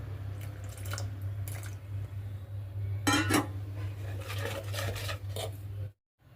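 Water is poured into dhokla batter in a kitchen bowl, giving a few short splashes and trickles with light clinks of a utensil over a low steady hum, close and quiet before cutting to silence.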